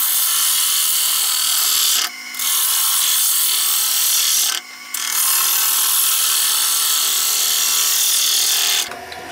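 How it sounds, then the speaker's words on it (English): Push cuts with a gouge on a wood lathe, the bevel rubbing the spinning wood: continuous loud shearing, hissing cut noise, broken by two brief pauses and stopping near the end. "So doing push cuts, rubbing on the bevel so that grind angle will give you a nice smooth cut down."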